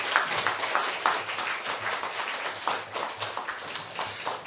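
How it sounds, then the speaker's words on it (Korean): A congregation at a Sunday church service claps to welcome a preacher, a moderate, loose patter of many hands with a slightly uneven rhythm, heard without speech. "나오실 때 우리 박수로 환영하겠습니다."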